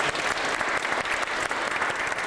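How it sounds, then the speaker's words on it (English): Dense, loud applause from an audience at a wish-granting event in Edmonton, honoring a police escort; a continuous roar of many hands clapping fills the space without a break. "Let's give them a round of applause."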